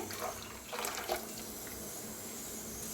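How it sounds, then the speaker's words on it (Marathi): Water pours into a pot of buttermilk kadhi, a soft, steady splashing pour that stays quiet and close. "थोडं आणि जरा ओतणार आहे मी, पाणी घट्ट आहे तसं पाणी ओतते"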